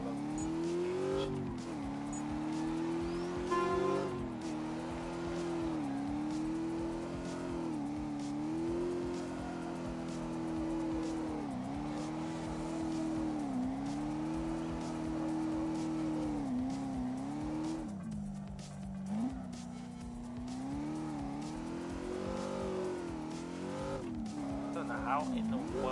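A car drifting in CarX Drift Racing Online, its engine droning loud and steady with rising and falling revs, under intermittent tire squeal and skidding, with a voice talking over it.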